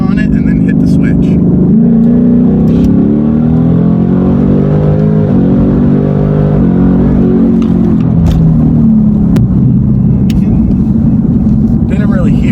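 2018 Ford Mustang with nitrous pulling hard in third gear, a loud, steady engine roar rising in pitch throughout as it accelerates, heard from close range without pause.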